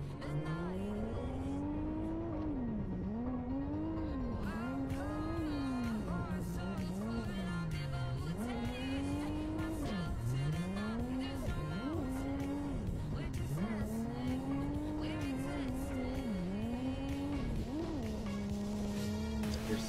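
Drift car running a solo lap in a driving game, engine revving up and down in repeated sweeping surges with tire squeal and skidding, loud and continuous.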